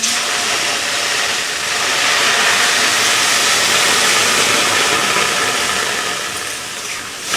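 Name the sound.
water poured into frying moong dal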